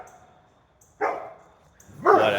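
Pet dog Max gives a couple of barks, a short one followed by a louder, longer one, fairly close in a quiet room.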